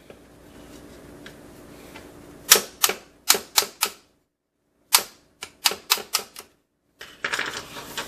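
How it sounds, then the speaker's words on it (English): An XP Deus metal detector pin being pounded out: two bursts of sharp, loud metallic taps, a quick run of four and then five more after a short silence, followed by a faint scraping clatter. "I get the pin and I pound it out"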